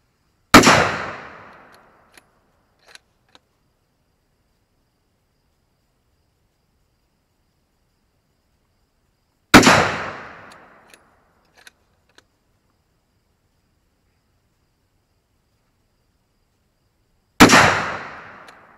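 Three sharp 6.5 Creedmoor rifle shots from a Howa 1500 fitted with a Vortex scope, spaced several seconds apart outdoors, each a loud crack with a decaying tail, followed by faint small clicks between them.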